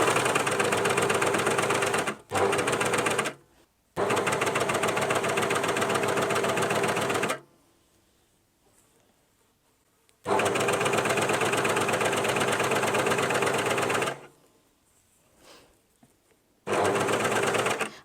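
A new cover stitch machine sews a twin-needle hem in loud, dense mechanical bursts of rapid stitching, stopping and restarting several times with quiet gaps in between.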